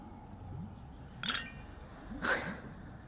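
Glasses clink twice in a toast in the game Honkai: Star Rail, two bright, separate chimes about a second apart over a quiet low hum.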